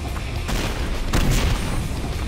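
Cannon fire in the Painkiller video game, a deep boom followed by a second heavy blast about a second later, loud and close over a dense rumbling background.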